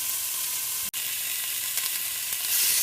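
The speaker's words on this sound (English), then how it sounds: "sear them on both sides in a good sized pot" Beef ribs searing in a good-sized 6 to 8 quart pot, a steady loud sizzle with faint crackles throughout, briefly cut by a short silent gap near the start.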